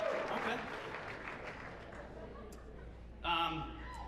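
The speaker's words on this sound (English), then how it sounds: "You guys can applaud." Wedding guests at a toast give a fading round of applause that thins over several seconds before a voice comes in near the end.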